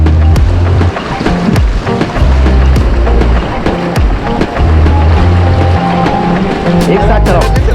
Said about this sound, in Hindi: चलो पैडल फॉरवर्ड।